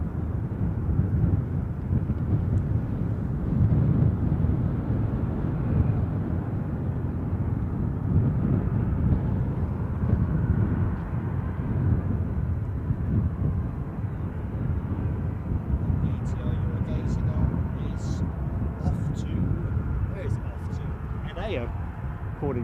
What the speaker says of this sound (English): ATR on the move.